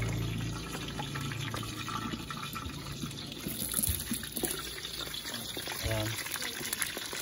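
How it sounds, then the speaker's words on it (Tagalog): Bagnet pork belly getting its first deep fry in hot oil, a steady rushing, bubbling hiss that runs continuously at moderate loudness with a few scattered crackles. "Iprito na natin siya ng unang prito."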